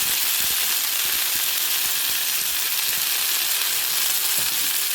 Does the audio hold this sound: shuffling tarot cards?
no